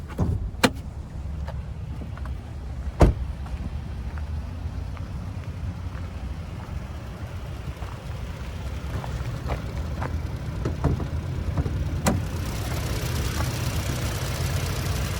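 Inside a 2021 Kia Sorento S AWD, its 2.5-liter naturally aspirated four-cylinder engine drones steadily as a low, even cabin hum, with a few sharp clicks and thumps scattered through it and no speech.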